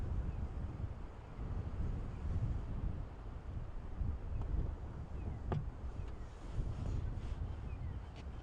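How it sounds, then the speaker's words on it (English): Strong wind gusting outdoors on a safari drive, a loud low roaring rumble buffeting the microphone with shifting intensity and faint rustling throughout, no voices. "how hard the wind is blowing"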